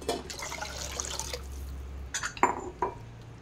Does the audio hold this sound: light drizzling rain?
no